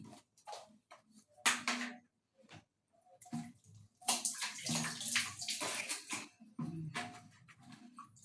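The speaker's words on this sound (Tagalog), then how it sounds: "Hilamos sa nawong." Water splashing during face washing, bursts of splashes and sloshing in irregular clusters, close and fairly loud, with no talk over it.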